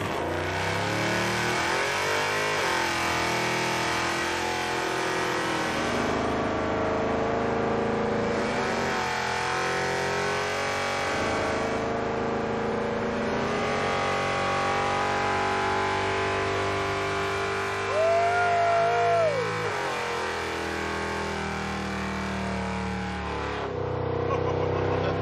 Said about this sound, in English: I feel obligated to do a burnout in the muscle truck.